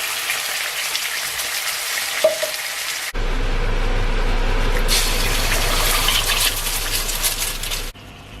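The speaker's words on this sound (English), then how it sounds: "I'm going to pour a bit of water too to steam it." Water poured into a pan of frying apple and honey longganisa sausages, the moderate sizzle turning into a loud, rushing hiss and bubbling that holds for several seconds before easing off.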